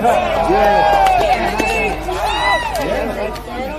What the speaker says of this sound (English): there's a huge crowd there